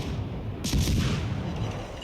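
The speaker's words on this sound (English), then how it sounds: "That was an epic explosion there." Torpedo hit destroying a ship in World of Warships Legends: a sudden booming explosion over background rumble, a sharp crack then a rolling decay.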